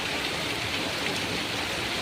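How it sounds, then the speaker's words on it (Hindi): Heavy monsoon rain pouring down outside a shop in Bihar, India, a loud steady wash of noise with no pauses. "बहुत ज़ोरदार बारिश हो रहा है।"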